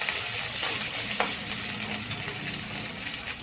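Thickly cut onion and capsicum fry in a pan with a loud, steady hissing sizzle, punctuated by light spatula scrapes and taps at uneven intervals, close up and without speech.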